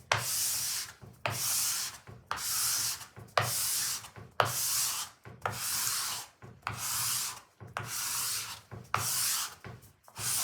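Pastel chalk being rubbed firmly into a fabric collage, a close, loud rhythmic scrubbing of about ten even back-and-forth strokes with brief pauses between them.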